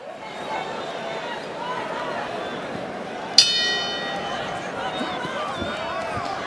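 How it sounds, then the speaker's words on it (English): A boxing bell strikes once, sharp and ringing, to end a round in a crowded arena, briefly rising above steady crowd noise and talk. "to the corner to check on Robson Conceição when the bell rings"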